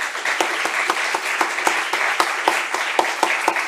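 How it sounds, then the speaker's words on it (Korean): A church congregation at a spring revival service claps together, with sharp, fairly regular beats rising above a steady bed of applause that carries on throughout. "하나님께 영광의 박수를 한번 올려드렸으면 좋겠어요"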